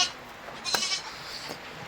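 A farm sheep that has just given birth, with newborn black lambs nearby, lets out a couple of short bleats against a quiet background, one near the middle and a fainter one toward the end.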